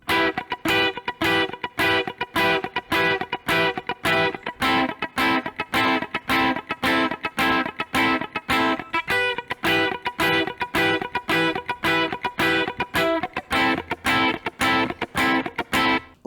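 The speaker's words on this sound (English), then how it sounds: "So then there's this funky guitar part that comes in that sounds kind of like this." Funky electric guitar part from a song, played as a tight, rhythmic run of short choppy strummed chords with steady staccato pulses, loud and close, with no talking.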